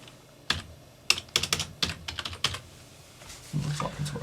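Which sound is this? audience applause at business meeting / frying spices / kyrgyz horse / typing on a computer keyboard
typing on a computer keyboard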